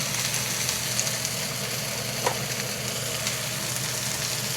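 Steak and jalapeno peppers grilling in a grill pan, giving a steady close hiss of sizzling with faint crackles and no talk.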